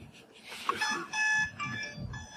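An alarm alert sounds from a phone app linked to a bag anti-theft tracker, a couple of short electronic tone bursts, moderately loud, over faint background noise.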